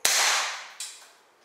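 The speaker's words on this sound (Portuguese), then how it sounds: "Engatilha de novo, segundo disparo." A Marushin Derringer 6mm gas airsoft pistol fires two sharp, close cracks less than a second apart, each with a hissing gas tail that fades away.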